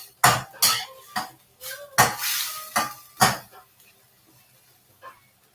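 Seven or so sharp, scraping strokes on a kitchen knife blade being sharpened during home cooking, coming in a rough rhythm before the scraping fades to near silence, with a faint dog bark in the background.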